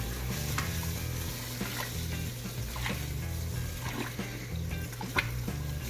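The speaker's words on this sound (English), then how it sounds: "we're going to add in all of our grains right now. I have my assistant JJ helping me stir" Grains stirred into hot water for a cucumber saison mash, giving a steady wet churning with soft scraping strokes and occasional clinks, close and continuous with no talk.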